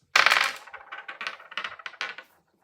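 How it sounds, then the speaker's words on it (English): A single die tumbles and clatters across a tabletop, a quick burst of sharp rattling taps that thins into a few scattered, fading bounces before it comes to rest. "Why does that one dice have to go all the way over there?"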